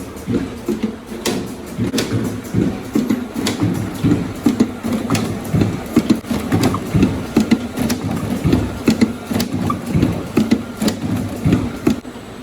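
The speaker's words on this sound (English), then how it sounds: "the mechanism is tightening, just closing till the end, each cover on the bottle." A liquid filling machine caps bottles, tightening each cover in turn with a steady, loud mechanical clatter and rhythmic clicks and thumps that repeat throughout.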